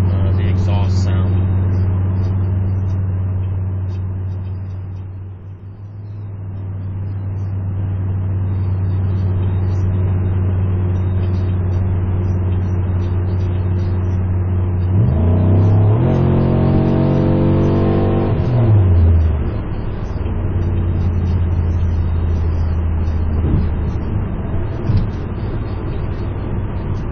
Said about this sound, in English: Sounds good to me anyway, but it's definitely noticeable, the exhaust sound.